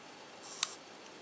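A Minox B subminiature camera's shutter fires on the T setting with a single faint, short click and a soft brief whir around it, heard alone in a quiet room.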